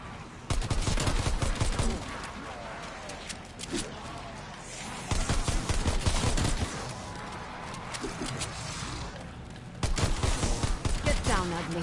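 Pistol gunfire in a video game rings out in three rapid bursts of sharp, loud shots, separated by short quieter gaps filled with game background sound.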